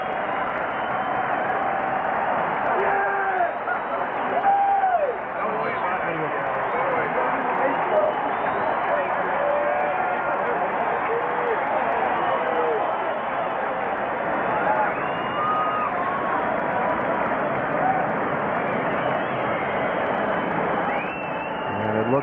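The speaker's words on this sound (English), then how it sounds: "the ovation has now lasted for 18 and a half minutes" A large baseball stadium crowd sustains a long standing ovation at Baltimore, a steady roar of cheering and applause that holds throughout, broadcast-style with a voice occasionally over it.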